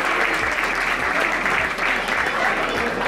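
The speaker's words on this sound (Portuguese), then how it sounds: "Para todos vós, um grande aplauso." Loud, dense audience applause fills a hall at a mountain-bike club awards night for the Raid Serra Mar in Loulé, steady and unbroken from start to finish.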